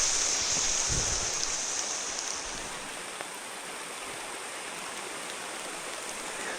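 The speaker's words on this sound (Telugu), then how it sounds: "సో స్టార్ట్ అయిపోయింది వర్షం." Steady rain falls near a forest road on the way to a waterfall in Rampachodavaram, a dense, even hiss with no breaks and no voices.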